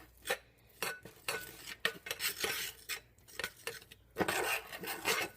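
A spoon scrapes and clinks around a pot as flour and melted butter are stirred into a roux paste, in uneven bursts of scraping strokes with short pauses, close up and without talk.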